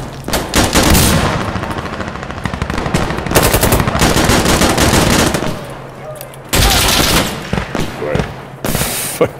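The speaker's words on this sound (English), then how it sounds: "Stop that! Stop shooting!" Automatic gunfire from the team deathmatch video game Insurgency Sandstorm, loud and close, with dense rapid bursts that stop briefly and then resume, under occasional talk.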